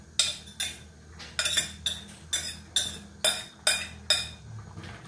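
Spoon or ladle repeatedly knocking and scraping against a metal pot while moringa leaves go into a mung bean stew, about a dozen sharp clinks in an irregular rhythm, close and clear, no talk.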